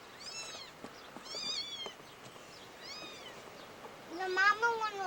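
Small kittens meow in a series of thin, high, rising cries, spread across the moment and growing louder and more insistent toward the end, with a faint voice in the background.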